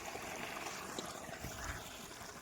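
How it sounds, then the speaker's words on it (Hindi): Water flowing through an irrigation channel in a farm field, a steady continuous rush and trickle that stays close and even throughout with no voices. "ये चल रहा है यहाँ पर पानी"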